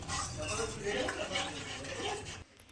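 Fish pieces for a bhetki and poppy-seed curry going into a simmering pot, heard as a busy clatter of stirring and utensils against the pot with a soft bubbling hiss, stopping abruptly near the end.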